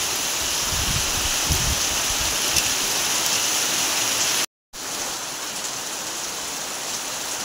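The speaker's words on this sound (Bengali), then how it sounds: "এবার আমি জল দিয়ে দেব।" Water poured into a pot of cooking meat curry in a home kitchen, a loud, continuous splashing rush that stops briefly and then resumes.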